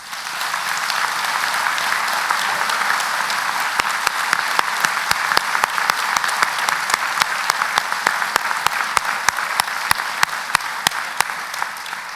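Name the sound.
graduation audience applauding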